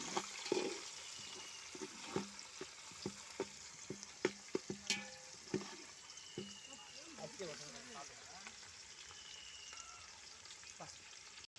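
Onions and spices for chicken biryani fry in a pan with a soft, ongoing sizzle, broken by frequent sharp clinks and scrapes of a stirring utensil, fairly quiet overall.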